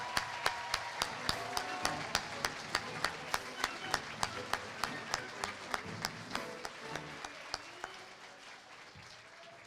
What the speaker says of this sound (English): Let's give all of our graduates a big round of applause.